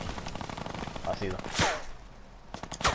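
Enemy gunfire in a first-person shooter game, rapid bursts of shots rattling at moderate loudness, with a couple of sharper cracks, while players talk over it.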